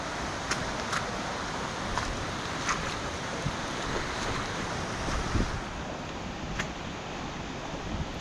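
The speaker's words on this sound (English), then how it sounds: "you can feel that the water's getting faster and faster from this point on until it goes over the top of the" Fast stream water rushing toward a waterfall at a gate, a steady broadband roar with wind buffeting the microphone, continuous and close throughout with no speech.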